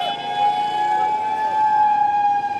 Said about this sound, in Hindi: उसके बाद ये मॉक ड्रिलिंग और सायरन की आवाज़ जो कि आप सुन पा रहे होंगे